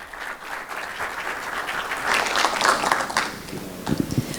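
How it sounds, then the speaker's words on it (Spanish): Audience applause at a mobility and transport finance forum during a cargo expo, a sustained round of clapping that swells through the middle and tails off near the end. "les pedimos un aplauso"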